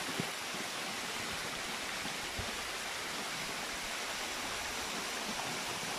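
Mountain waterfall cascade in the Kingstown Forest Reserve, St. Vincent, a steady loud broadband rush of falling water heard up close with no voices.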